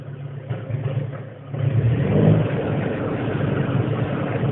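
A car engine revs briefly while running with an alternator under test, the rise in throttle swelling steadily and staying loud through the rest of the short stretch.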